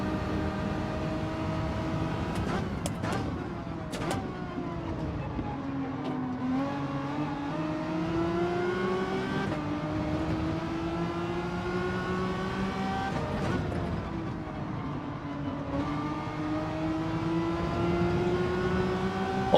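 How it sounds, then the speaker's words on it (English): A Citroen's engine in Gran Turismo 7 revs and shifts through the gears, its harmonic whine climbing and dropping repeatedly, loud and alone. "I like the Citroen's audio on some scenarios."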